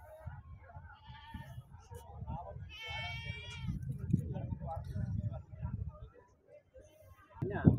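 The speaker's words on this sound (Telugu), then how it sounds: "ఈ సైజు ఉన్నాయి మేకలు" Goats bleat at the weekly Siddipet livestock market. A clear, wavering bleat rises mid-way above steady nearby talk and crowd murmur, with shorter animal calls scattered around it.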